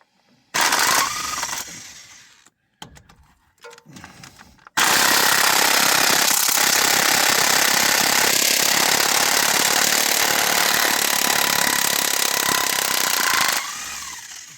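An impact wrench removing bolts on a 2021 Chevrolet Silverado: a loud, continuous mechanical rattling hammer burst runs about nine seconds after a few shorter, choppy bursts, close and harsh.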